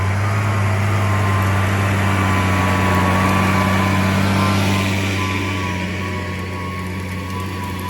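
Tractor engine running during field work on virgin ground, with a Case Maxxum 125 or Massey Ferguson 5S pulling a Lemken implement: a steady, loud engine drone with strong low hum, easing slightly toward the end, no talk.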